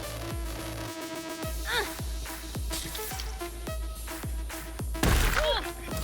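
Combat music from the video game Cyberpunk 2077, a heavy electronic track with steady, hard-hitting bass drops about twice a second, glitchy high squeals and crashing accents, loud and continuous throughout.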